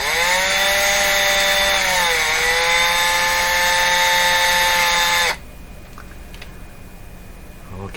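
A turntable idler wheel's rubber rim is ground, giving a loud, sustained whining grind with steady overtones for about five seconds before it cuts off to quiet rustling.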